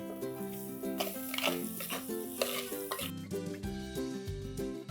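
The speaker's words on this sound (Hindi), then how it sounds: "फटाफट इसे भूना, और इसके अंदर हम ऐड कर देंगे यहाँ पे टमाटर पिसे हुए" Ground tomato puree hits frying spices in a pan for dum handi paneer gravy, giving a soft steady sizzle beneath prominent background music.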